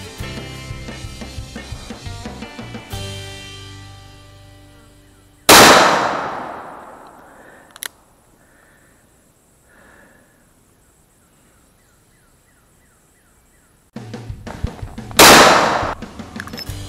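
Two loud, sharp reports from a Freedom Arms Model 83 revolver chambered in .454 Casull, each followed by a ringing outdoor echo and decay, with quiet gaps and a small click between the shots.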